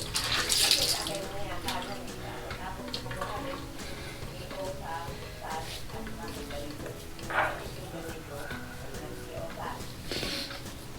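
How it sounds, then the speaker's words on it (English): Cold tap water runs as a face is rinsed after a wet shave, with splashing bursts over flowing water at close range and some talk in between. "let's wash it down with some cold water"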